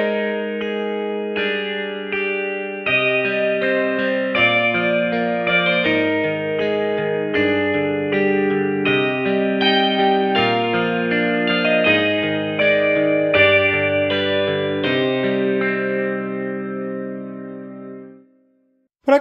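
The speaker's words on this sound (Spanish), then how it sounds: "Esta librería está sampleada de una Telecaster y tiene un sonido que me gusta mucho" Sampled Telecaster electric guitar from a software instrument library plays a steady melodic line with sustained chords, loud and continuous for about eighteen seconds before fading out, with no voices.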